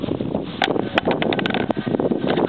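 Wind buffets the microphone in loud, continuous rumbling gusts, with a few brief sharp crackles mixed in.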